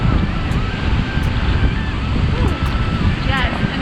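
Broad, steady roar of heavy rushing water from a wide waterfall on Iceland's south coast, continuous and loud throughout with wind buffeting the microphone and no speech.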